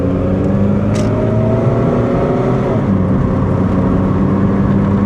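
Chevy Cavalier car engine running after a head gasket issue, a loud, steady low idle hum with a smooth tonal drone throughout, heard alone without talk.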